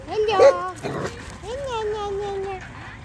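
Lulu the dog lets out a few tonal whimpering, yelping sounds, with a longer whine trailing off near the end, while voices speak close by.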